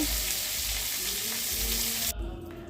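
Potatoes frying in a pan make a loud, steady sizzle, heard up close with no talk, and the sound drops off abruptly near the end.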